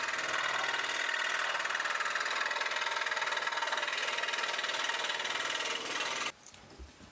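A Hegner scroll saw cuts thin plywood silhouettes taped with blue tape, giving a steady rapid buzzing chatter that runs evenly for about six seconds and then stops abruptly.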